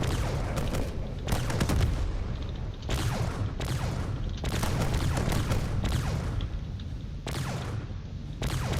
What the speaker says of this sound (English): Here comes a lot more cannon shells.